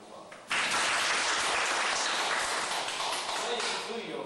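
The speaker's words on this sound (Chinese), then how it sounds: "给各位先给自己一个掌声鼓励，好不好？" Audience bursts into dense, sustained applause that starts abruptly and keeps on evenly in a hall during a lecture at a temple gathering, fading slightly near the end.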